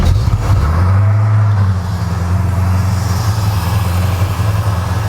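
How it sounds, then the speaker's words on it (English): A 1955 Chevy Bel Air engine runs close by in a steady low rumble, with a brief swell in the first second before settling into an even idle. "Let's hear what this motor sounds like."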